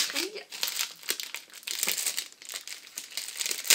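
Plastic wrapping on a small discount-store product package crinkles and crackles continuously as it is torn open, with bursts of sharp rustling close up and a louder crunch at the end.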